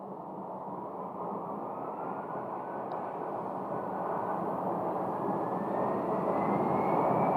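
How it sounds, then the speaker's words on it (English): An older Delta Airbus A321 airliner at Phoenix airport gives off a steady, loud roar of jet engines that builds slightly over several seconds, with no voices over it. "This Delta flight, which is up next, is one of the older A321s."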